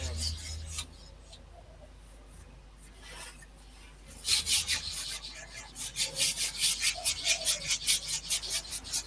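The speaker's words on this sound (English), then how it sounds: "Amber's sanding in the background if you can hear anything." Wood sanding in a possum rescue setting starts faint and scratchy, then turns into a steady run of quick, rhythmic rasping strokes coming from a short distance away.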